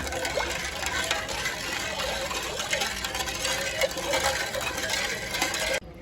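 Half a kilo of sugar being stirred into watermelon sharbat, a steady close scraping and swirling of liquid and granules in a vessel that runs continuously and then stops abruptly near the end.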